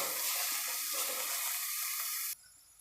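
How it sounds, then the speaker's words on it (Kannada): Dill leaves fry in oil over low heat, a loud dense close sizzle with stirring that stops abruptly near the end, leaving quiet. "ಈ ಸಬ್ಸಿಗೆ ಸೊಪ್ಪು ಚೆನ್ನಾಗಿ ಎಣ್ಣೆಯಲ್ಲಿ ಫ್ರೈ ಆಗಬೇಕು ಚೆನ್ನಾಗಿ ಬೇಯಬೇಕು"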